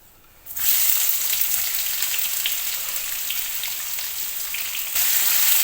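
Chopped onions hit hot oil with cumin seeds, jumping from near quiet into a sudden loud, steady sizzle with faint crackles that carries on for several seconds.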